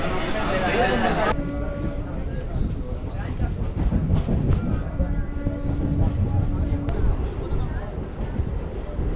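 A suburban local train rumbles loudly and steadily as it enters Kanchipuram East railway station, with rolling wheel noise and a brief high tone, while a voice talks over the din.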